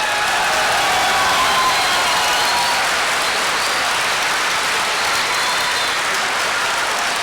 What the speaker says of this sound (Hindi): आपकी तालियों की गूंज ने यह सबूत दे दिया है।